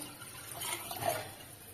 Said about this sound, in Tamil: அதுக்கு வந்து பானையில அஞ்சு டம்ளர் தண்ணி சேர்த்துக்கிறேன்